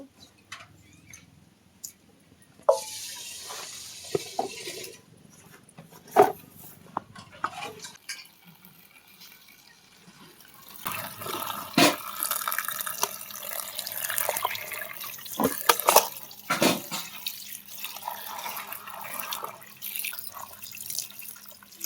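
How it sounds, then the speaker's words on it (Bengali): Chopped taro leaves are washed under a running tap, with bursts of splashing water, drips and handling clatter in a sink. The sound starts faint and sparse and grows louder and steadier in the second half, with no talk. "এবার কচু শাকগুলো ধুয়ে নেব।"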